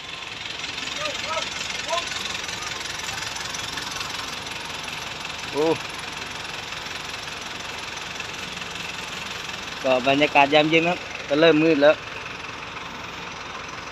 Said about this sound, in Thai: รถไถยังไม่เป่ากรองเลย